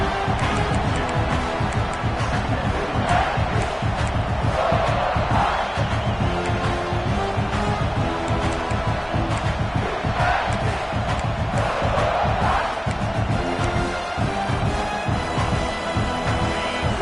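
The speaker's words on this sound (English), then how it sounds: "the crowd coming to life here, trying to help this defense down in the red zone" A big college football stadium crowd roars and cheers to back the defense in the red zone, a dense, sustained wall of noise with rising swells, USC against Mississippi State.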